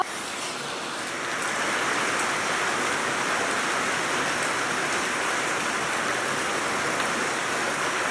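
Steady rain pours down in a dense, even hiss, swelling after the first second and holding constant with no voices.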